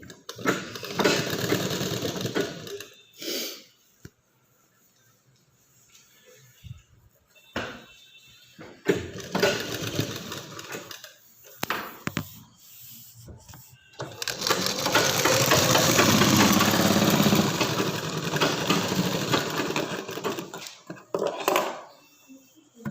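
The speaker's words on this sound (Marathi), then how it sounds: "पहिली सुईच्या बाजूने शिलाई मारून घ्यायची एकदम" Sewing machine stitching a joined sleeve seam close to the edge, loud whirring runs of several seconds each broken by pauses and handling clatter, the longest burst near the middle.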